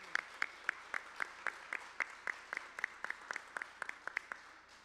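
Sparse, evenly spaced claps from a small audience at a press conference in the National Palace, distinct individual hand claps in a steady rhythm, fairly close and moderately loud.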